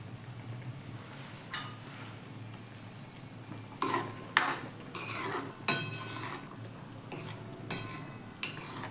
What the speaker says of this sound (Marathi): बघूया आता आपली वांग्याची भाजी उकळली आहे की नाही. हे बघा मस्तपैकी उकळत आहे.